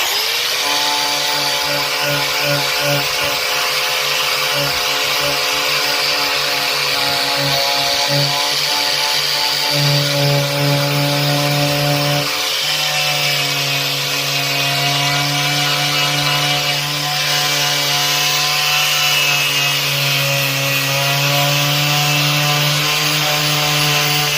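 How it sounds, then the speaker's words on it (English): A power tool fitted with a wire wheel strips a car body panel, giving a loud, continuous high-pitched whine with steady harmonic tones and a brief dip in speed partway through, running alone without speech. "I'm going to try to wire wheel that"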